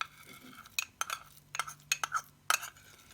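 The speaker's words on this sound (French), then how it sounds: "Donc là, on va juste mélanger le tout." A utensil clinks and scrapes in irregular bursts against a bowl while gluten-free cassava and rice dough is stirred, close and fairly quiet, with a faint steady hum underneath.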